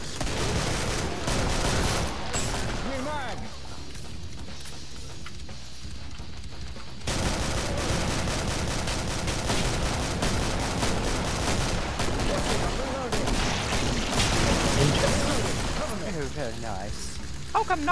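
Gunfire from several players shooting zombies together in co-op Killing Floor, near-continuous loud bursts of shots and booms over many seconds, with a brief lull, under occasional talking.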